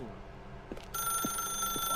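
Telephone in The Stanley Parable video game starts ringing partway through, a steady bright electronic ring under faint low background tones and a few soft thumps.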